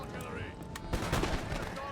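Musket and artillery fire in Empire Total War, the historical strategy game. There is a dense, continuous crackle of gunfire with a heavier burst of shots near the middle, loud and close.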